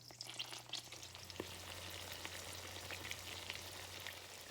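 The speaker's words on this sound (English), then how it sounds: "my butter and my little olive oil is already starting to get good and hot, so I'm going to start adding them in" Tuna patties frying in butter and a little olive oil, a faint, steady sizzle with scattered tiny pops and a low hum underneath, with no one speaking.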